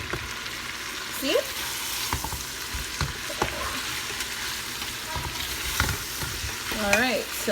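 Jamaican oxtail sizzles steadily in a pot at moderate volume, with occasional clinks and scrapes of stirring and faint background sounds over the cooking.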